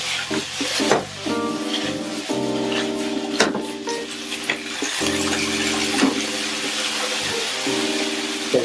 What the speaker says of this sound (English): keep stir frying over here